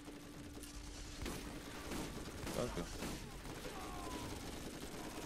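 Gunfire from the video game Borderlands, a steady stream of shots under dense game noise, with a brief spoken word partway through.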